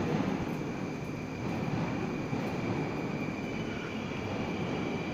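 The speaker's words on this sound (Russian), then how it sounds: "вот поезд подъехал" A Moscow metro train on the Serpukhovsko-Timiryazevskaya line pulls into Petrovsko-Razumovskaya station, filling the hall with a steady, loud, droning rumble and a faint high whine that hold throughout, with no one speaking.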